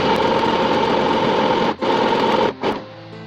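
A mini sewing machine starts stitching: a steady, high, buzzing motor whir runs continuously, with two brief dropouts before it slows and stops.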